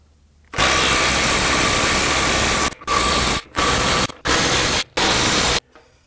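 Makita XWT14 18V cordless impact wrench tightening bolts: one long loud burst of rapid hammering followed by four shorter bursts separated by brief pauses, close up with no talk.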